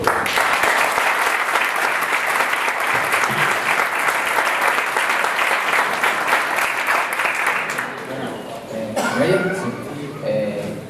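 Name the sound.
audience applause welcoming a speaker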